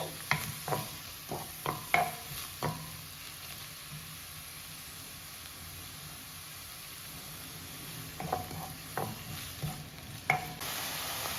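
Chopped chicken pieces and onion sizzling in a pan while being stirred, with bursts of scraping and stirring clatter at the start and end over a steady frying hiss, close up and without talk.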